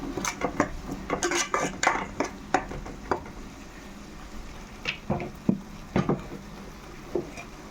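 Seasoned pieces coated in masala, salt, chili, turmeric, oil and green chilies being mixed in a cooking pot, a series of close, sharp metallic clanks and scrapes of a spoon against the pot, dense at first then sparser.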